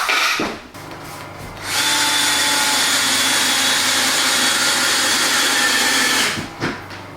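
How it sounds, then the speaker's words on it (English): A power sander works down a wooden table top, running loud and steady after a short start, with a broad whine and constant motor hum before winding down near the end. "I think I'm going to go ahead and sand down the top of, or continue to sand down the top of our table here right now."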